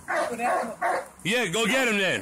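A dog yips and whimpers a few times, then lets out a longer howling whine, close by while someone speaks over it.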